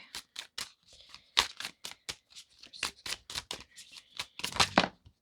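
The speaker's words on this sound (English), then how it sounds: "even when I'm shuffling." Close, crisp tarot card shuffling in quick, uneven bursts of flicks and riffles, rising to a busier flurry at the end.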